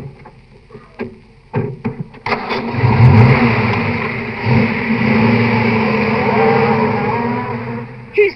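Car engine cranks with a few short bursts, catches and settles into a loud, rough running rumble with revving, with a brief voice near the start.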